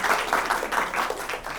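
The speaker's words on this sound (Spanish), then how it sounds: "recibimos con un fuerte aplauso" An audience at an afternoon literary talk gives a brief burst of applause, a dense patter of clapping that holds steady and fairly close for under two seconds.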